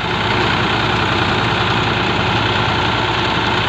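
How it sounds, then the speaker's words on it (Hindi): A tractor engine idles steadily with no load, a loud, continuous low rumble with a faint knocking throb and no voices. "टैट तो बस बिल्कुल शांत चल रहा है, कोई लोड नहीं ले रहा ट्रैक्टर।"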